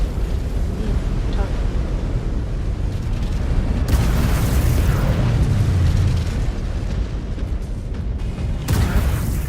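In Mechwarrior 5: Clans, a heavy mech is destroyed amid a dense, loud wall of rumbling explosions and battle noise, with deep booms swelling midway and a voice speaking over the din.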